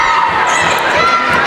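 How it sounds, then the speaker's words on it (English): Basketball fans in an arena applauding their team at a men's college game, a loud dense wash of clapping and crowd cheering that fills the whole moment. "are hanging around to applaud their team"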